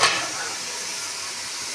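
Spinach boils in a pot, giving a steady, close, broadband hiss that swells slightly at first and then holds even, with no talking.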